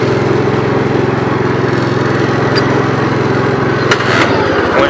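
A 1987 Gravely 12G tractor engine runs in high gear to test the drive clutches, a loud, steady, close single-cylinder drone with a buzzing pulse, a few faint clanks toward the end.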